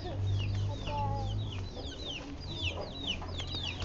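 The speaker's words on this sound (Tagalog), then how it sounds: "sa ilalim ng alagang Tito Jelly na manok." Several hens cluck and chatter in quick, overlapping bursts, with a low steady hum underneath and a few sharper calls mixed in.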